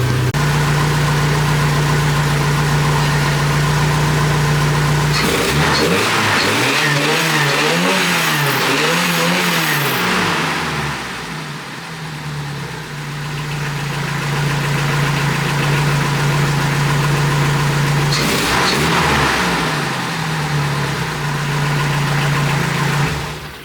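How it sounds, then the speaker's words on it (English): A car engine fitted with iridium spark plugs idles with a loud steady hum, then is revved twice, rising and falling in pitch before settling back to idle. "We're gonna wait for it to warm up and give it a few revs"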